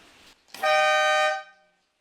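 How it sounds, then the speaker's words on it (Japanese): A 27-year-old Caterham Super Seven sounds its horn once, a single loud, steady near blast of about three-quarters of a second, preceded by a brief faint blip. "ホーン、"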